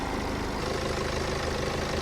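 A 2007 BMW 320d diesel engine idles with a steady low hum, evenly with a faint rhythmic chug, fairly quiet and without any voices.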